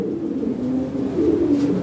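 European Lahore pigeons give a soft, rolling coo close by, a low, warbling murmur that runs unbroken through the short stretch with no talk over it.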